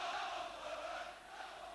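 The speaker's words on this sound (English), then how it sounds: "The crowd is certainly responding in full voice." A football stadium crowd at a 1988 Middlesbrough versus Chelsea match roars in full voice, a sustained distant wash of massed singing and shouting, fairly faint.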